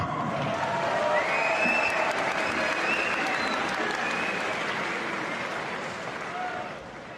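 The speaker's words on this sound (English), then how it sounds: "round of applause for both fighters" A large crowd at a fight event applauds steadily, a dense wash of clapping with some scattered cheers and voices, fading slightly at the end.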